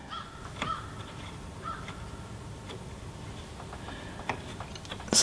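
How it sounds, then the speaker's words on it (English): Crows caw now and then outdoors around a tiny house construction site, faint and distant over a soft background hiss, with a few sharp ticks and a louder knock at the very end. "The birds are starting to come back pretty good."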